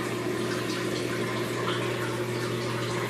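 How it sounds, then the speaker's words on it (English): A Magic Chef 1.6 cubic foot portable washing machine leaking water from front and back, draining onto the floor: steady, continuous rushing water with a constant motor or pump hum underneath. "there's water there draining on the floor"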